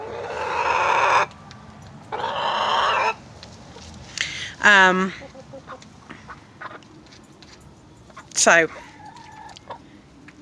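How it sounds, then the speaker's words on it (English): Backyard chickens cluck and call nearby, with two harsh bursts followed by rising squawks, while a person speaks briefly over quiet outdoor background. "chicken noises"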